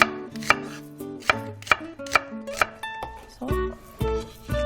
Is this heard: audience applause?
no